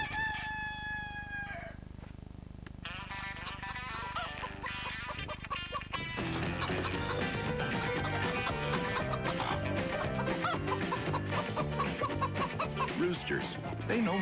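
A rooster crows in a Tim Hortons television ad, with clucking hens, then the crow gives way to a busier, denser stretch of farmyard fowl sounds that runs to the end.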